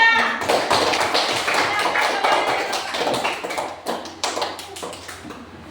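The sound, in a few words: classroom applause for group 3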